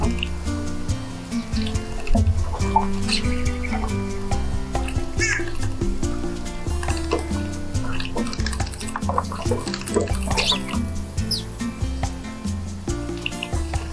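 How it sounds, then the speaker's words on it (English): A European starling bathes in a birdbath, splashing water in repeated bursts of spattering and dripping, close and fairly busy, with faint chirps from other birds mixed in. "Here a European starling joins the party. He makes a big splash."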